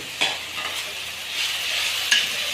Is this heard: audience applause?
no